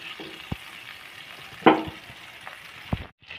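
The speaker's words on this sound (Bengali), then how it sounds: "তো এবার আবার এর সাথে বাটারটা মানে মেল্ট করে নিচ্ছি, যাতে তেল আর বাটার একসাথে মিশে যায়।" Butter melts into oil in a pan, giving a low quiet sizzle broken by a few sharp clinks and one brighter burst of spitting.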